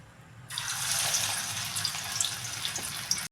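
Bread kebabs hit hot oil in a kadhai and set off a sudden loud, bright sizzle. The hiss carries on with scattered pops and crackles, up close.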